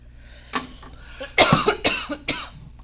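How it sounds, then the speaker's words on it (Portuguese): A man coughs during a podcast recording, close to the microphone: a few scattered light coughs, then a harsher cluster of throaty coughs and one more near the end, with no talk over them. "Hora da tossidinha."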